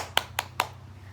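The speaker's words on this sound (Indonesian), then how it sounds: "Tepuk tangan untuk Siti." Three sharp claps or hand snaps spaced about a fifth of a second apart, close and fairly quiet, with no voices, heard as brief applause for a pupil in an Indonesian classroom lesson.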